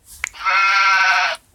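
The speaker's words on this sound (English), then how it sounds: "we all know the sheep sound like this" Sheep bleat as a sound effect, a single clear, wavering cry lasting about one second, preceded by faint clicks.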